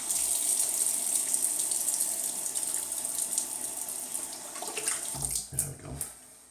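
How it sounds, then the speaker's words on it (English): Water runs from a tap in a steady, close hiss, with a few knocks and splashes toward the end. "Just let me add some water real quick."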